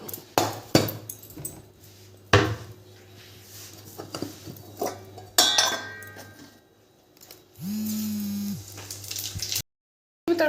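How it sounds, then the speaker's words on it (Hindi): Sharp clinks and sizzling crackles of spices hitting hot oil, with a brief steady hum midway and no talking. "तड़का दे दिया है"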